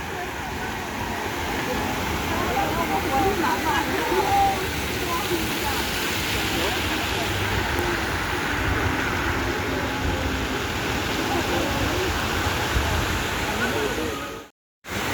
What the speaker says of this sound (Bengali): এখানে একটা বড় ঝর্ণা আছে ওই যে ওই ওই চালু